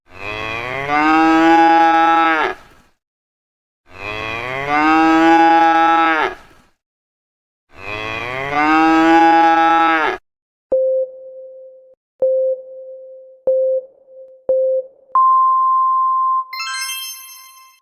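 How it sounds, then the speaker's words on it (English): Three long, loud cow moos, each separated by a pause, followed by a few short electronic beeps and a rising tone. "cows in different herds moo with slightly different tones"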